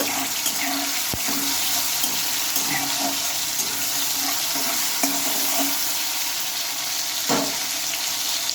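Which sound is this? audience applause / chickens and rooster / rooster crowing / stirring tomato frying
stirring tomato frying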